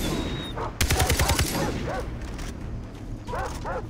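Several dogs barking in the Far Cry 3 video game, a rapid burst of loud barks mixed with gunfire-like cracks, followed by scattered fainter barks and yips.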